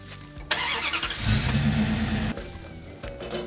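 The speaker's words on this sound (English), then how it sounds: "let's move the truck and unload the second one, shall we?" A truck engine turning over and pulling away on a farm, a loud mid-range rumble that swells, holds steady for about two seconds, then drops back to a lower idle-like drone.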